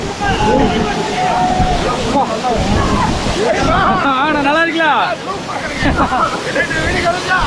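Rushing water roars steadily throughout, a broad wash of falling water with several people chatting over it.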